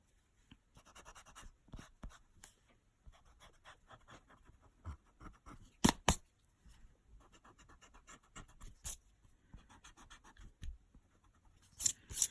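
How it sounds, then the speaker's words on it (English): An eraser rubbing out pencil guidelines on paper after drawing a simple tree, quiet, close scratchy strokes in irregular bursts with a few louder rubs, otherwise near silence and no talking. "Now it's time to rub the guidelines."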